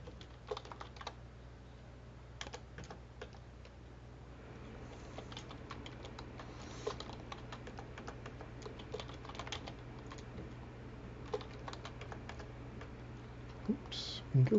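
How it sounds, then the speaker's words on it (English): Tab key presses on a computer keyboard make scattered, soft clicks at irregular intervals, faint against a steady low hum of room noise. "I'm just pressing my tab key"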